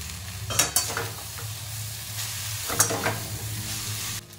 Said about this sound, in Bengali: চাউমিনটা দিয়ে এটাকে ভালো করে আপনি ভাজবেন।